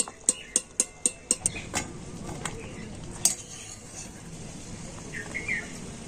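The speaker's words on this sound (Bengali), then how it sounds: "তো একটা ছাকনা দিয়ে আমি কুমড়োটা জল ঝরিয়ে আর তুলে নেব" Boiled pumpkin is lifted out and drained with a metal strainer against a pot, giving a quick run of about six sharp metallic clinks followed by softer knocks and a wet shuffle, with faint birdsong in the background.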